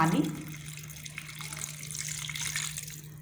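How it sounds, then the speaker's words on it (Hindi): Water running into a pot of beef korma with tomatoes, a steady splashing pour over a low constant hum, with no talking. "पानी हमने इसमें शामिल कर दिया"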